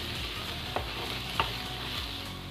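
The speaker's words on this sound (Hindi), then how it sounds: "vegetables, green part of spring onion, capsicum, cabbage और इसे अच्छे से मिक्स करें।" Spring onion greens, capsicum and cabbage are stir-fried for Korean fried rice, a continuous close sizzle punctuated by three or four quick scrapes of a spatula tossing the vegetables.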